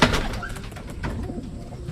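Pigeons coo softly and repeatedly at close range, low murmuring calls blending with a rough background of wind or rain noise, with no talking.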